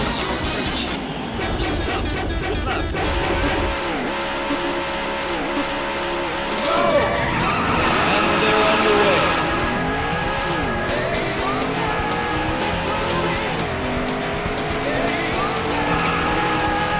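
Arcade race cars in the game Daytona USA rev and roar loudly with rising and falling engine pitch, joined by tire squeal and skidding, over game music.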